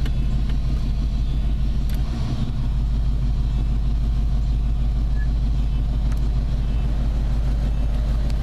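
A truck engine rumbles steadily and loudly throughout, a deep low drone with a constant running hum and no pauses.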